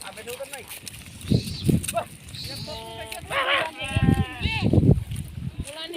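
Goats bleating in a village during a rescue, several harmonic calls heard from close by, mixed with people talking and moving around.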